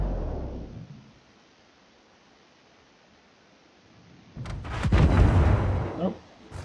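Battleship guns firing in World of Warships: a boom fading at the start, a quiet stretch, then a loud burst of heavy cannon blasts and rumbling explosions near the end.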